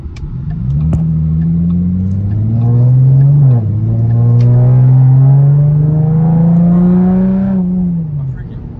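A Ford Mustang GT engine pulls steadily on the road, its tone climbing as it accelerates, easing briefly, then rising again in a smooth, loud drone that fades slightly at the end.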